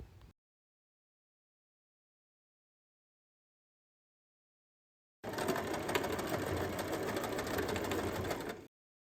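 A sewing machine runs steadily, top stitching the double-folded tip of a fanny pack strap in one continuous burst of about three seconds after a long silence.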